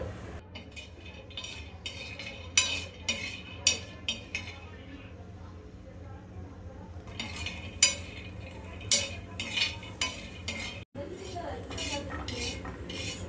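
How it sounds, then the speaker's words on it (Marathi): Peanuts being dry-roasted and stirred in a pan with a metal spoon, giving clustered scraping and clinking strokes in two bursts separated by a quieter stretch, with voices and background noise in the kitchen. "थोडंसं शेंगदाणा भाजून घेऊयात आपण"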